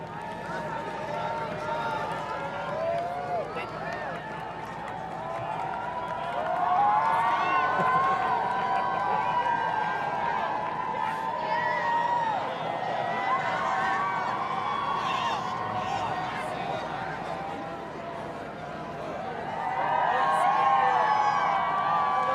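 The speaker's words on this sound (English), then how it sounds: "Now let's just listen into what how the crowd is reacting to the Trudeau's passing." A large outdoor crowd cheers and whoops as Prime Minister Trudeau passes after a swearing-in ceremony, a sustained mix of shouting voices and excited chatter that swells in waves, nearby and loud.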